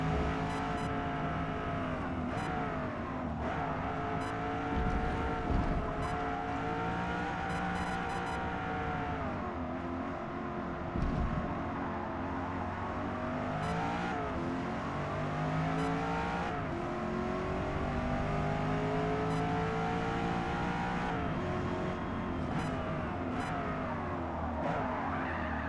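Corvette E-Ray C8 hybrid in Forza Motorsport on the Nürburgring GP circuit: a steady engine drone with repeated tire squeals through corners, sustained and loud without pause, with no talk.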